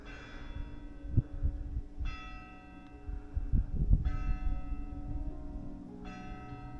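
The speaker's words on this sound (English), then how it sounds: "Listen, church bells." Church bells in an Italian village ringing faintly at a distance, a few slow clangs with long ringing decay over low rumbling background noise.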